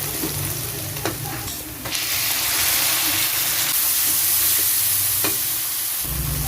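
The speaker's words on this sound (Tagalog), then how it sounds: "Fry na natin guys yung ating chicken. Chicken, bawang sibuyas," Chicken frying with garlic and onion in a hot pan for chicken afritada gives a loud, steady, dense sizzle that runs the whole time, with a few stirring scrapes and no voices.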